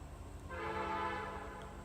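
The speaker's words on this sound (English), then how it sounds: "sorry for the train because we do live near the tracks" A train horn blares close by from tracks next to a home, a sustained multi-tone blast that swells after a quiet start and holds steady over the rumble of the passing train.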